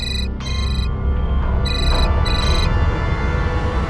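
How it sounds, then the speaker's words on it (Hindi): Telephone ringtone in a Hindi TV crime drama, repeated electronic ringing bursts in two groups over a low, steady background hum, fairly loud and close with no voices. "फोन उठाकर बात कर लो ना पहले।"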